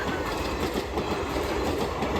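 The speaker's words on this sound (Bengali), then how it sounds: "এটা কাঞ্চনজঙ্ঘা এক্সপ্রেস এটা মনে হয় দাঁড়াবে না বোলপুরে গিয়েই দাঁড়াবে" Kanchenjunga Express passenger train rolling past at steady speed, a continuous broadband rumble with rhythmic clickety-clack of wheels over rail joints, close and fairly loud throughout.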